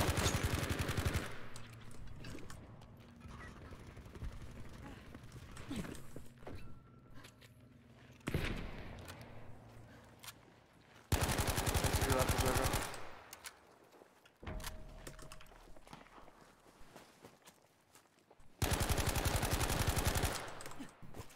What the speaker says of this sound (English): Sniper is shooting at me.